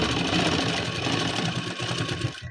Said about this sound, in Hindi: तो ये देखिए इस तरह से किनारी पे सिलाई लगानी है।